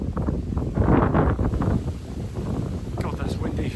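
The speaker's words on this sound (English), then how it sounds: "God, that's windy." Strong gusts buffet an outdoor microphone on a hilltop lookout near Russell Farm, producing a loud, continuous low rumble with surging peaks throughout, and a voice speaks faintly under the roar.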